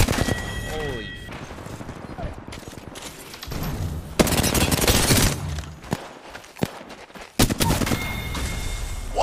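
Video game Apex Legends firefight with rapid automatic gunfire, sharp individual shots and bursts crackling close and loud. Footsteps and scattered effects fill short pauses between volleys.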